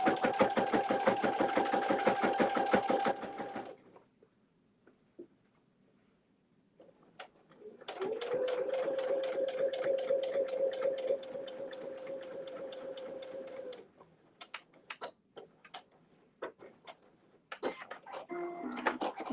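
A sewing machine top-stitches a fabric sling in two loud bursts, running for about four seconds, pausing, then running again for about six seconds, followed by scattered clicks and handling noises.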